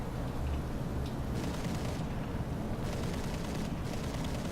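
In the War Thunder flight game, explosions destroy anti-aircraft gun positions, producing a dense, rumbling roar of blasts and booms; the bursts are continuous and heavy, with no speech.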